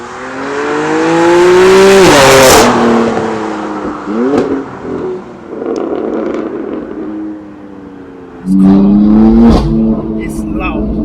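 BMW M4 CS engine roars loudly from inside the car while driving, revving up in rising sweeps, dropping back between pulls, then surging again near the end.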